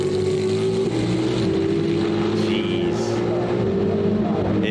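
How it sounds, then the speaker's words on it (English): NASCAR stock car racing at Le Mans, its engine giving a steady, sustained drone that holds at a constant pitch throughout, loud and continuous with no talk over it. "You can always pick a NASCAR stock car sound out."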